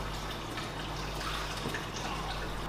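A pump and hose filling an aquarium tank, giving a steady rush of running water with faint drips, continuous and close, with no talking.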